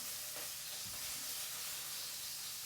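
Sausages and onion sizzle in a pan in a boat galley, a steady broadband hiss of frying fat with a couple of faint stirring scrapes, fairly quiet and without talk.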